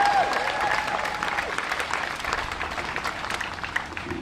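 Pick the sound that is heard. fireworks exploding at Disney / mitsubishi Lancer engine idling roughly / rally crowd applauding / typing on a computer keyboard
rally crowd applauding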